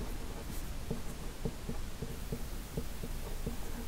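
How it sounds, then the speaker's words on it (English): A pen scratches across paper while someone writes a short phrase on a worksheet line: a close, quiet run of short, evenly spaced strokes over a faint steady hum. "I'm going to write the inciting action"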